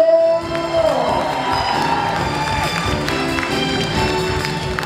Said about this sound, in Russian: давайте вместе с вашими аплодисментами наконец откроем гала-концерт фестиваля «Месяц первокурсника»